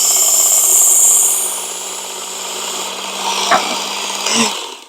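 A Work Sharp Ken Onion knife sharpener runs a buffing belt against a knife blade, a close steady whir that fades slightly, with a couple of brief scraping bumps near the end.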